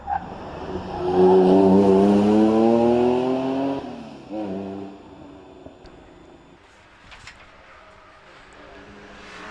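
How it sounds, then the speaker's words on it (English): A Porsche 944 race car launches off the line at the Prescott hillclimb, its engine roaring loudly and climbing in pitch through the gears before receding into the distance and fading to faint background noise. "that's the Porsche 944 116 going off the line"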